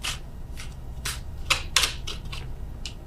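Tarot cards are shuffled and drawn by hand, giving a run of crisp, close flicks and riffles in short bursts over a quiet background.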